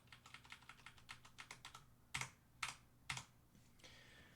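Rapid light clicking from a computer mouse, a quick regular run of taps followed by three sharper, louder clicks spaced apart, close and quiet with no talk.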